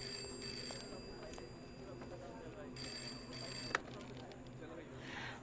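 A telephone rings in an office in short repeated bursts, fairly faint beneath a busy room murmur, with a sharp knock partway through.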